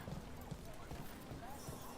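Hooves of a pack of donkeys clip-clopping in the Dragon Age The Veilguard video game, a faint, regular string of soft knocks over a low ambient bed.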